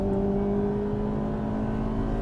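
A Honda Civic Type R FD2 engine pulls hard and steadily, its tonal drone loud and close as it climbs toward VTEC, with no voices over it.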